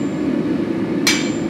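One sharp, bright metallic strike of a blacksmith's hammer rings out near the end, over a steady background rumble.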